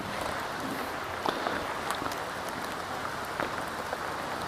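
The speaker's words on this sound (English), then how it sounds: "some rain coming off my windshield" Rain falling during a motorcycle ride on the Tail of the Dragon in North Carolina, a steady wash of hiss with scattered brief patters and drips, loud and continuous with no talk.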